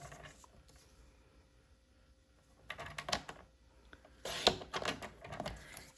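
Scissors cutting a 4 by 3 piece of brown card for a double open side fold card: two short bursts of crisp snipping and crunching, close and moderately loud, separated by quiet handling.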